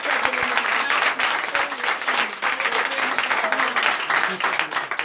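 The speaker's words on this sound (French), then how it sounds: "Donc je vous demande d'applaudir la défaite." A church congregation at a night deliverance and prophecy service breaks into dense, sustained applause. The clapping stays loud and continuous throughout, with voices mixed in.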